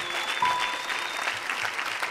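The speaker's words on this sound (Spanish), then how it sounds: "darle un aplauso a Jesús por todas estas manos que se han levantado." A church audience claps steadily, a dense wash of applause from many hands filling the space.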